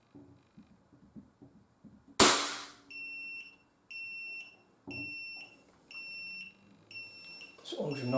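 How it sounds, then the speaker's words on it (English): An unsuppressed gun fires one sharp, very loud close-range crack, followed by a series of regular electronic beeps, with quiet talk before the shot. "I'm going to test the gun without a silencer,"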